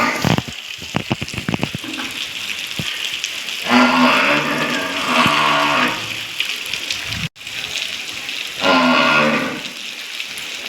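A buffalo bellows in a village during rain, with two long, loud, close moos standing out over the constant patter and wash of falling water.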